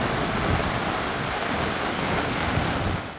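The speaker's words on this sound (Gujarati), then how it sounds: "ગોધરા અને શહેરામાં ધોધમાર વરસાદ વરસ્યો" Heavy monsoon rain pours down in Godhra, a dense, loud, continuous roar of falling water that fades slightly at the end.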